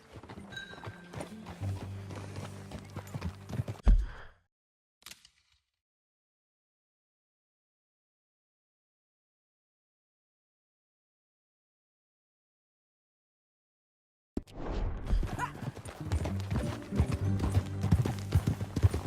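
Quick rhythmic horse hoofbeats gallop along in Red Dead Redemption 2, then cut to silence for about ten seconds before the pounding hooves resume, loud and close.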